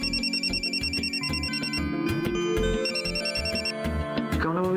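A telephone rings with a repeating electronic melodic tone, steady and fairly loud, pulsing in short rhythmic bursts over a continuous musical background.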